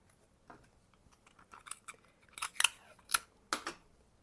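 Scissors snipping through fabric along a sewing dart, a series of sharp, close cuts starting faint and growing louder, in uneven clusters with brief pauses, no talking.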